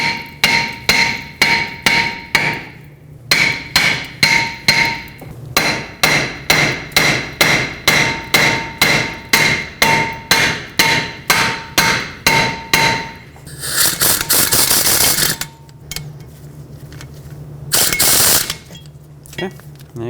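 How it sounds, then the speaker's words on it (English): Sharp metal hammer blows on a stuck front brake rotor of a 2012-2017 Toyota Camry, struck between the lug studs to free it from the hub. They come in a fast, steady run of loud ringing taps, close by, followed by scraping and clunking as it loosens. "you can either use a hammer, tap right between the lug studs"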